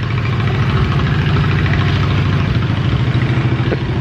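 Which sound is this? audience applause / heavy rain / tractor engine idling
tractor engine idling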